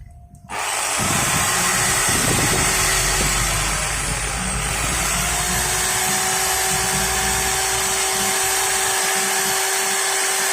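A repaired electric drill, earlier fixed for a short circuit that tripped the breaker and cut out intermittently, starts up and runs steadily at full speed with a constant high whine, loud and close, alone.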